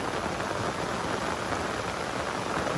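Steady rain falls in a rural village as an even, dense hiss of drops that stays constant throughout, with no voices.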